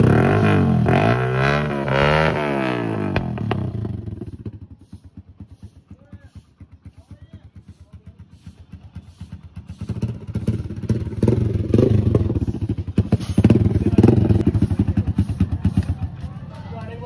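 A Hero Splendor motorcycle idles then revs through its exhaust silencer, rising and falling in bursts, with voices talking loudly in Hindi over the start of the engine noise.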